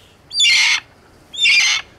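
Two loud, harsh squawking calls from a golden pheasant, each lasting about half a second, separated by a short pause, close and clear.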